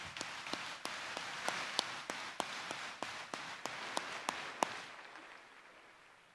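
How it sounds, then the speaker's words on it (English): At a 2019 high school graduation ceremony, an audience applauds the faculty and staff. Steady crowd clapping carries a crisp, evenly spaced nearby clap, then fades away toward the end. "Let's give them a round of applause"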